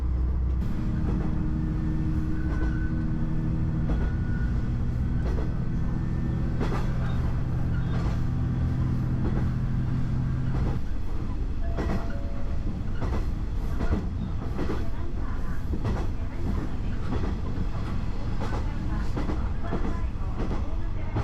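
A train on the rural Kitakami Line in Iwate, Japan, rumbles steadily along the tracks with repeated rhythmic clacks, a low engine drone early on, continuous and fairly close.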